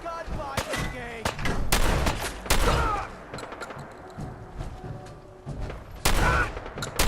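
Gunfire in a Fallout 4 gunfight: loud, sharp shots cracking out in scattered bursts and single reports, with echoing tails between volleys.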